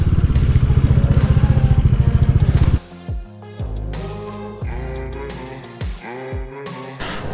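A motorcycle idles loudly outside Dhoni Hotel near Mandar Hill in Banka, Bihar, then cuts out abruptly after about three seconds, followed by scattered clatter and thuds as it is parked.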